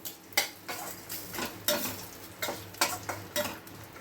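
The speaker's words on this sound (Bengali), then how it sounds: "এইটা দিয়ে একটু হালকা নাড়িয়ে নেবো আমি" Pilaf ingredients with raisins being stirred in a cooking pan: a series of scraping, clinking strokes of a spoon or spatula against the metal, close and moderately loud, roughly every half second, no talking.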